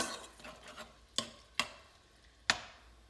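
Shrimp cooking in a pan with seasoning are stirred around, leaving a faint background sizzle broken by three sharp spatula clacks against the pan.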